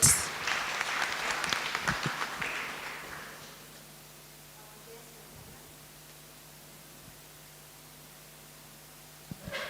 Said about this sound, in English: Let's clap for Madam Juliet.